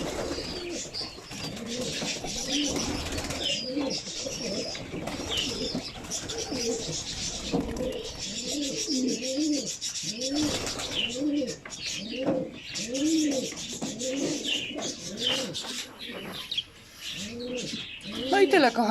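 Domestic pigeons coo in soft, repeated throaty phrases, several birds close by with occasional chirps and a faint flutter, a continuous murmuring loft sound with no speech.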